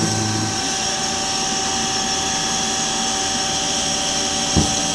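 Duet horizontal bandsaw in automatic mode, giving a steady, loud mechanical hum and whine with tonal machine lines, plus a brief clunk near the end as the vise or clamp moves.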